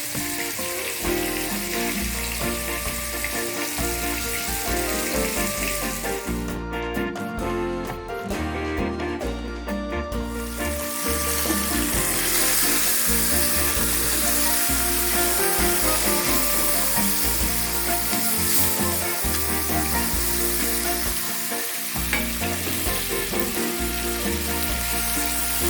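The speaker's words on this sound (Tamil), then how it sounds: "இப்படியே போட்டு நம்ம எல்லா சிக்கனையுமே நல்லா ரோஸ்ட் பண்ணி எடுத்து வச்சுக்கலாம்." Chicken pieces for Arabian mandi biryani sizzle and roast in a pan with a steady, bright hiss of frying, close and continuous beneath prominent background music.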